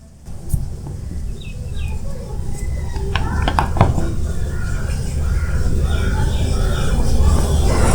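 A knife cuts chalta (elephant apple) fruit into pieces for pickle, giving scattered sharp clicks and taps against a hard surface, with a few quick knocks clustered midway over a low background hum.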